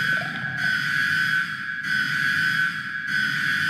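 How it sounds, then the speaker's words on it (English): An alarm from the video game SCP Containment Breach, a loud, steady, piercing electronic tone that sounds in repeated bursts of just over a second each, broken by brief gaps, alone with no voices. "It's really the containment breach alarm from the game SCP Containment Breach."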